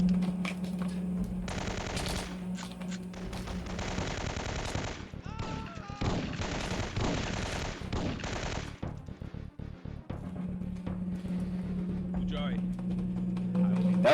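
Rapid automatic gunfire and bursts of shots from guards in the video game Syphon Filter, loud and dense for several seconds, with a steady electronic hum before and after the firefight.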